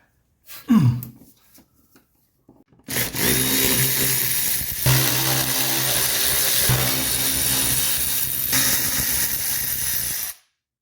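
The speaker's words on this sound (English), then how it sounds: "I'm just going to get them all loose, and then I'll hit them with the 3/8 electric 3/8 drive." Electric 3/8-inch drive impact wrench loosening bolts under a 1985 Mercedes 300D, a loud continuous mechanical whirr and rattle lasting about seven seconds after a few brief knocks.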